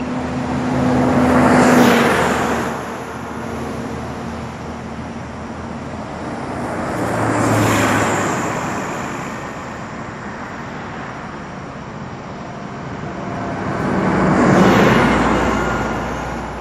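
A white pickup truck and other traffic pass on a road at a flagged work zone, with three separate swells as vehicles approach and fade away, each peaking briefly before dropping back to a low background hum.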